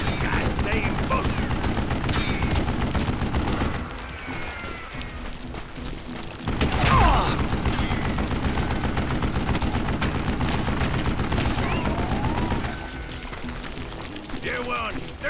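Repeated gunfire in the Wild West shooter Call of Juarez: Gunslinger, heard as sharp shots and bursts over dense game noise, with a brief lull partway through and a voice talking over much of it.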